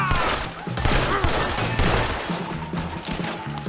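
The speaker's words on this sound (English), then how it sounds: "Arthur, shoot someone!" Rapid gunfire in a cowboy video game rattles out in a dense, continuous fusillade of overlapping shots during a wagon-pushing bank robbery scene, loud and close throughout.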